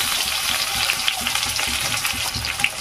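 Chopped garlic and onion frying in mustard oil, a steady close sizzle with a hissing wash and faint stirring knocks, no talk.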